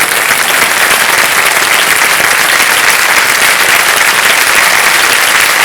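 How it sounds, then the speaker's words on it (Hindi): Loud, continuous applause from a television game show studio audience for a contestant on Kaun Banega Crorepati, a dense, even roar of clapping sustained throughout with no gaps. "तालियां बज जाए इनके लिए"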